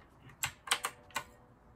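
Several keys on a rainbow computer keyboard are pressed one at a time, function then delete, giving four or five crisp clicky taps at close range with short gaps between them and no talking.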